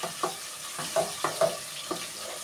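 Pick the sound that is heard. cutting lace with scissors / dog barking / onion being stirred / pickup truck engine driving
onion being stirred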